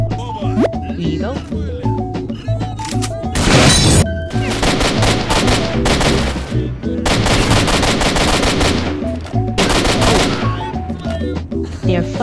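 Video game weapon gunfire, loud bursts of rapid automatic shots in several volleys separated by brief gaps, mixed with single shots and game sounds.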